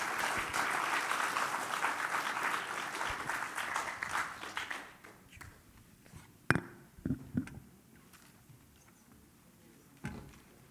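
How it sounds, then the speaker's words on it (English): Audience applause for conference panelists at a high-level marine forum, moderately loud clapping that tapers off after about five seconds, leaving scattered handling knocks and thuds in a quiet hall. "I would like you to give an applause for this very fantastic array of panelists"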